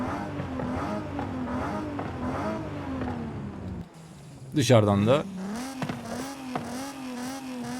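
A modified 2005 BMW M3 engine in Forza Horizon 5 hums and revs while someone talks over it, with a sharp rising rev burst midway.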